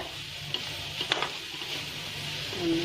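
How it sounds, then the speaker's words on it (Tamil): Grated coconut and jaggery stirred together in a pan, a soft continuous sizzle with a few light scrapes and taps of the spoon, close and fairly quiet. "நல்லா மிக்ஸ் பண்ணி கோகோனட்டும் வெல்லமும் நல்லா சேர்ற மாதிரி அதை மிக்ஸ் பண்ணி விட்டுக்கோங்க"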